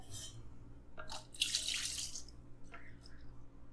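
Liquid scent pours into a pineapple beer soap mixture, giving splashy trickling bursts with a louder pouring rush in the middle and quieter running water near the end.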